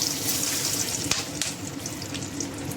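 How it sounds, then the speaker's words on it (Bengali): Whole garam masala spices (cardamom, cloves, cinnamon sticks) and bay leaves crackle and sizzle in hot oil with a little sugar, a loud, close, continuous frying hiss with small pops throughout. "এই তেলের মধ্যে আমি অল্প একটু চিনি দেবো, গোটা গরম মশলা ফোড়ন দেবো, এলাচ লবঙ্গ দারুচিনি, দুটো তেজপাতা দেবো"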